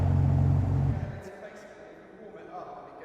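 A new BMW M3 or M4 engine is revved while parked: a loud, deep burst of about a second quickly drops away and fades out, with faint talk in the background.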